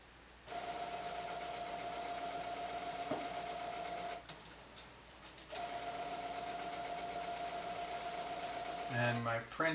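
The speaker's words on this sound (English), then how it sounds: "And my printer is doing a self-cleaning." A printer runs a self-cleaning cycle nearby with a steady mechanical whir and hum that pauses briefly and then resumes, carrying on at moderate volume, with a voice starting at the end.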